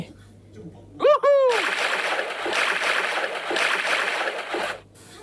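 A character swimming in the 100 Years life simulator video game, a short rising game tone followed by steady splashing and sloshing water that runs for several seconds before cutting off.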